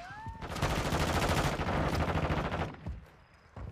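Sustained automatic gunfire in a video game, a fast, loud, close volley of rapid shots lasting a few seconds before tapering off.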